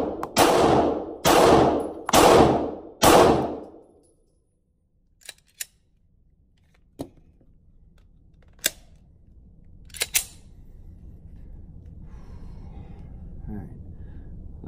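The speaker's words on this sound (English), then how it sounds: "I'm gonna shoot the other target now." Four loud, close gunshots ring out at an even pace on a shooting range, followed by several fainter, more distant shots over a low background hum.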